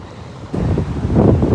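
Big sea waves crash near the shore under strong wind, a rough broadband wash that swells in and grows louder partway through, with wind buffeting the microphone; no talking.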